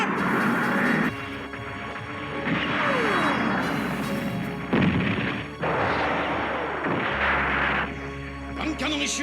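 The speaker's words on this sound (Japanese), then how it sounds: "爆発しちまう。" Repeated booming explosions and crashing blasts from a Mobile Suit Gundam anime film battle, dense and loud across the whole stretch, with music and voices underneath.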